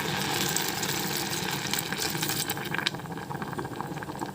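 A little water is added to a pot of gongura chicken with ginger and garlic, giving a steady, close pouring and bubbling rush with no voices.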